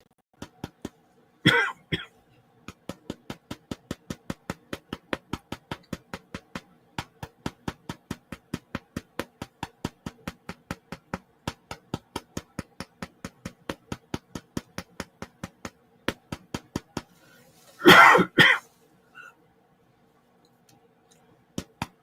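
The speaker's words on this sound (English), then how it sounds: "my apologies for hopefully not coughing into the microphone" Two short bursts of coughing, one early and one near the end, over a steady fast ticking like a clock or metronome, with no talk.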